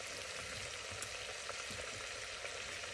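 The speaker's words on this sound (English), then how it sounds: "when everything is browned through, we're going to add our onion" Diced onion and leek fry in a soup pot for Zuppa Toscana, giving a close, constant hissing sizzle with a few soft ticks and no voices.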